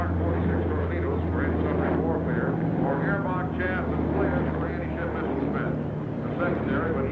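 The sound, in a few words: Navy SH-60 Seahawk helicopter flying at Jacksonville airshow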